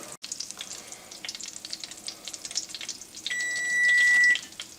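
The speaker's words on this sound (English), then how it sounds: "We're starting to melt up the butter. It's on a medium heat." Butter melting and shrimp frying in a pan over medium heat give a steady, close sizzle that swells a little near the end, with no voices.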